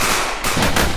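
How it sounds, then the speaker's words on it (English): A grenade goes off in a video game as one short burst of blast noise, fairly loud and close, with no talk over it. "I didn't see that grenade."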